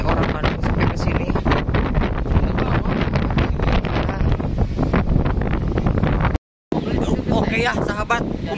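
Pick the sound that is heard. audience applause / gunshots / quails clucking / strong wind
strong wind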